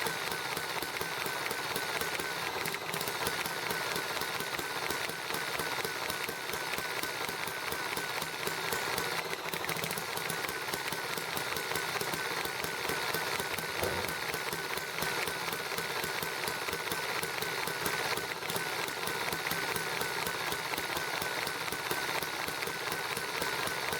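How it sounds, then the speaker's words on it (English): An engine turning about 1850 RPM drives a generator through a resistor-bank load test, giving a steady, uniform mechanical clatter and hum that runs unbroken from start to finish without talk. "The engine's turning at about 1850 RPM"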